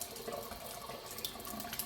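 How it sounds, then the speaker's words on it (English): Running tap water splashes steadily while homemade butter is rinsed in a sink, a continuous close bubbling trickle with small sloshing variations and no voices. "we're pretty much rinsing the butter"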